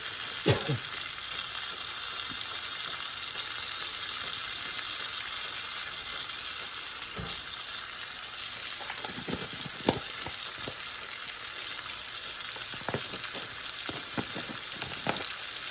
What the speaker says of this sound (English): now we're going to add some beef bouillon, just a little bit